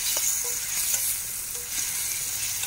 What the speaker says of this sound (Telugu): అల్లం వేసుకోవాలి. మంచిగా మిక్స్ చేయాలి.